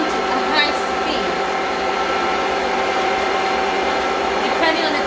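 Electric mixer creaming butter and sugar for a lemon drizzle cake, running at medium-high speed as a steady, loud, continuous whirring drone with a voice talking over it.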